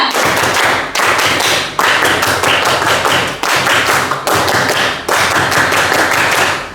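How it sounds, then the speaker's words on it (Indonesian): A group of scouts does the rhythmic Indonesian scout clap (tepuk pramuka) twice over, loud close-up bursts of sharp hand claps in a patterned rhythm with brief gaps between phrases. "2 kali tepuk pramuka"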